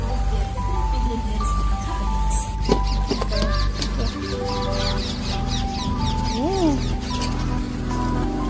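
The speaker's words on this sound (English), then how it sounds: "Birds here." Birds chirping and calling at the Dubai Safari kids farm, quick high chirps scattered over a busy background with hum and people talking nearby.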